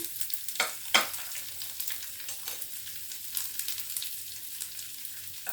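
Chopped garlic and whole cumin seeds fry in hot oil for an egg do pyaza, giving a steady close sizzle with a few sharp spatula scrapes and no voices.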